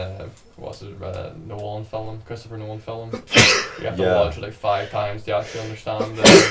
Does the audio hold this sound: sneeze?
yes